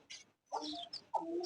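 Chicks let out of their coop, heard as a few short, close chirps and peeps in quick succession, with one faint call leading into two louder bursts.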